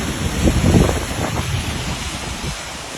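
Strong, fast-flowing flood water rushing past a bridge after heavy rain, a steady broadband roar with wind buffeting the microphone, loudest at the start and then holding an even, continuous rush.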